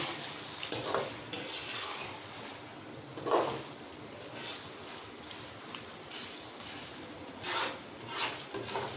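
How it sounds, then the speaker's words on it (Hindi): Half-fried chicken stirred into masala in a pot, with a steady sizzle and periodic scraping and clanking of a spoon against the pot, no talking. "अब हम इसके अंदर शामिल करेंगे चिकन, जिसको मैंने पहले हाफ फ्राई कर लिया था। इसको अच्छे तरीके से मसाले के अंदर हल कर लेंगे।"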